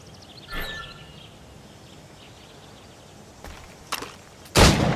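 Gunshots fired at targets in the video game Assassin's Creed Rogue: a faint early shot, then two sharper reports and a loud final blast, spaced irregularly over a quiet, hissy ambient background.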